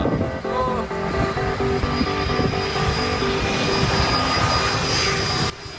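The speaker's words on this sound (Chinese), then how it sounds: "要降落的飞机直接从头顶飞过去" A large airliner on landing approach roars directly overhead near the short runway of Princess Juliana Airport, a loud, close, sustained engine drone that holds steady for several seconds before cutting off abruptly.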